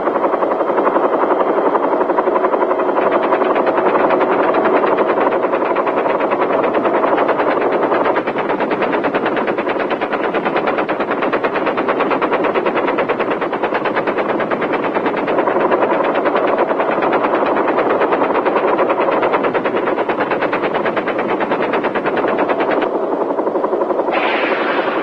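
Continuous rapid machine-gun fire from a helicopter roars over its heavy rotor drone, loud and unbroken for the whole stretch.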